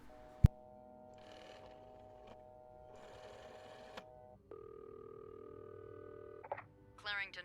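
In the video game This Bed We Made, a telephone call goes through: a sharp click, short bursts of dialing tones, then a steady ringback tone and a final trilling electronic flourish, all quiet and without talk.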